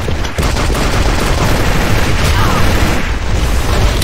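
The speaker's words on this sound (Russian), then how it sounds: "Бросаю гранат! Впереди! Граната!" Grenade blasts and rapid gunfire from the online shooter AVA, loud and dense throughout, a constant barrage of shots and booms with shouted callouts from players over it.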